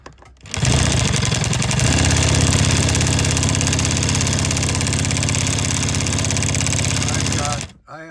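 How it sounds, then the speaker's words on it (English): A Falak chainstitch chenille embroidery machine runs at steady speed with a loud, even mechanical hum and rapid stitching rhythm, starting up after a moment and stopping near the end, with no talking. "does the Falak sew? Yes, it sews."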